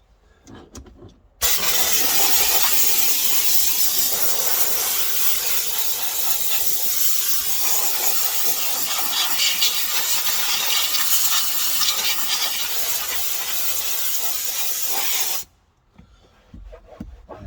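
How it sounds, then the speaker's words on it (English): A steam cleaner blasts steam over a Ford Transit's interior air vents, a loud, steady hiss starting abruptly, holding for about fourteen seconds with slight rasping texture, then cutting off sharply. "let's get the steam on it"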